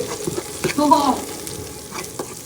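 An eggplant curry frying in a pan is stirred with a utensil in a home kitchen, giving a soft sizzle with scraping and clinking from the spoon against the pan, fairly close, and no talking.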